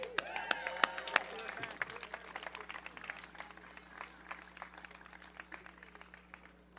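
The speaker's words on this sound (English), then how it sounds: "Let's give a round of applause for Ryan." A rally crowd outdoors claps in scattered, moderately loud applause that gradually thins out, with a murmur of voices underneath.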